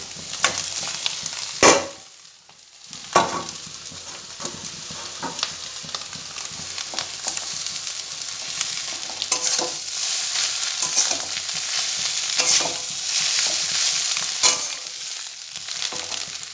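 Chow mein is stirred and tossed in a frying pan, with sharp clanks of the utensil against the pan over a steady close sizzle and scraping, continuing for a long stretch without voices.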